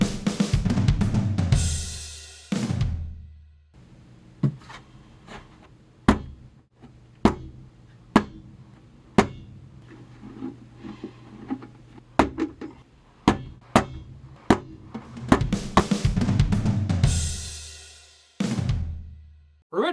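A bag of rice is struck by hand to make improvised kick drum samples, giving a series of dull, separate thumps at irregular intervals, with bursts of rustling handling noise at the start and end.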